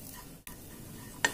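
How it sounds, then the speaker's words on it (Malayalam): Turmeric and Kashmiri chili powder are stirred in a pan with a utensil, a quiet close scraping stir over a soft sizzle, ending in a short sharp clink against the pan. "ഇനി നല്ലോണം ഒന്ന് മിക്സ് ചെയ്യാം."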